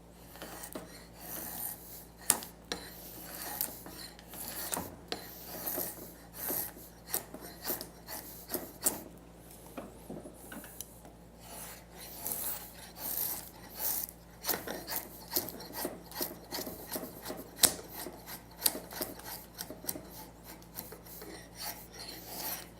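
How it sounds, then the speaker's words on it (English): Knife shaving and slicing along wooden furniture legs to taper them, a dense run of short scraping, rasping strokes at close range, steady and fairly quiet with no talk. "I'm skewing the knife. What that does, it helps shear through the grain better"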